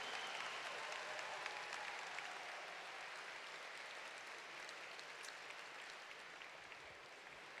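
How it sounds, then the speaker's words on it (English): Gala audience at a sarcoma foundation benefit applauds steadily, a faint, distant-sounding sustained wash of many hands that holds evenly throughout without voices on top. "Now let's hear that applause."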